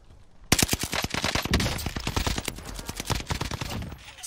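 Rapid bursts of NZ-41 rifle fire from the video game Warzone, a fast string of sharp, loud shots in quick succession with short gaps, close and dominant with no talking.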